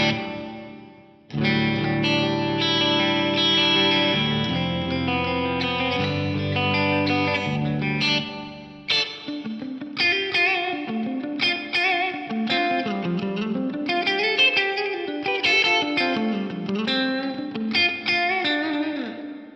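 Music played through the hall reverb of a TC Electronic G-Force effects unit, sustained chords and melodic lines trailing into a wide, lingering wash, with a brief cut near the middle before the line resumes and continues.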